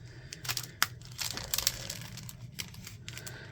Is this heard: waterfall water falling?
no